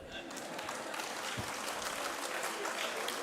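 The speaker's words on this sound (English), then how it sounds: "Ladies and gentlemen, put your hands together for Harish Anna." Steady audience applause for Harish Anna at a medical summit hosted by the Association of Bunts Doctors in Mumbai, a dense, even clapping that holds at moderate level throughout.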